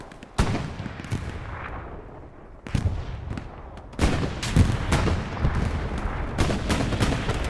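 Rockets and gunfire boom in the World War II shooter game Hell Let Loose: several loud blasts strike in succession, each followed by a rumbling roar and scattered shots that keep building toward the end.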